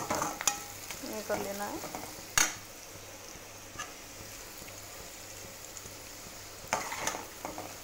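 Peanuts frying lightly in oil for sabudana khichdi, a soft steady sizzle with a few sharp clinks of a utensil on the pan, and a brief voice speaking near the start.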